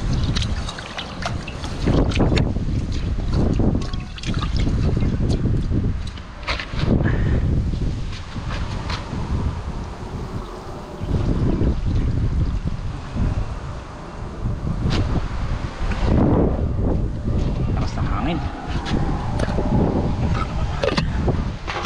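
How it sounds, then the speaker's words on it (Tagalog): Strong wind buffets a small fishing boat at sea, gusting in heavy roaring waves of noise against the microphone with rustling and water sounds underneath, continuous and loud. "Mahangin, malakas talaga ang hangin mga kagiliw."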